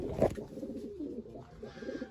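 Soft, low cooing of a male racing pigeon repeats several times at moderate distance, with faint background noise and no talking.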